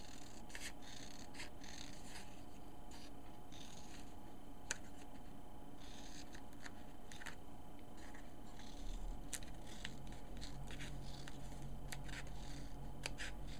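Scissors trim a paper gift tag by hand in a series of short, crisp snips with clicking blade sounds, close up and quiet in a still room, with no talking.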